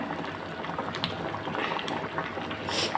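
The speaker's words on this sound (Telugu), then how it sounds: "ఇంకా జస్ట్ ఒక 5 నిమిషాలు మంచిగా తాలింపులో మరగనిద్దాం" Thick curry bubbles and blips steadily in a pot up close, a continuous busy simmer with no voices.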